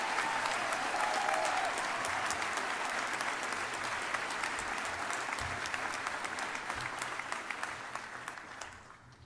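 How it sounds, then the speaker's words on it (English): Sustained applause from a large audience at a 2024 biomedical engineering commencement ceremony, honoring graduating MS and PhD students; dense, steady clapping that gradually tapers off toward the end. "Let's give our research-based MS and PhD students one more round of applause."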